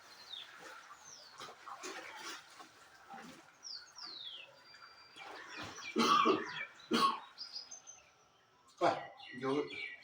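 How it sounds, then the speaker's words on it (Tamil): Several harsh coughs burst out in short clusters, loud and close, with quiet murmuring and faint squeaky sounds between them. "அதனால தான் இருமல் கிளம்புது"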